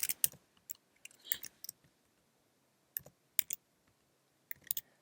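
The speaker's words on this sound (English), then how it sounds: "I'm just going to type in a couple of numbers." Keys on a computer keyboard tapped out in short clusters while numbers are entered into a blank spreadsheet, crisp close clicks separated by brief pauses, no talking.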